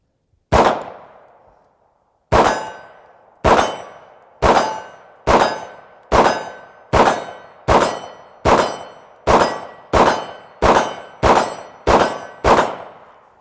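A Beretta M9 pistol fires at steel targets 25 yards away: one early shot with a long ring-out, then a steady string of about fourteen loud shots, each with a sharp metallic clang, at a quickening pace.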